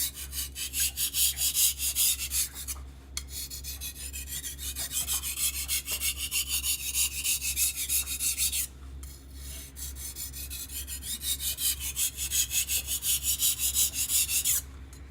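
A knife blade rasps back and forth across a coarse sharpening stone in steady repeated strokes, close and fairly loud, with two short pauses between runs of passes.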